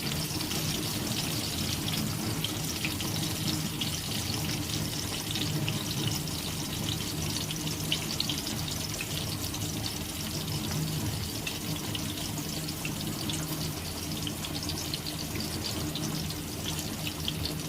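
Onions fry in a pan for an ivy gourd stir-fry, giving a steady, dense sizzle that holds close and even throughout with no talking.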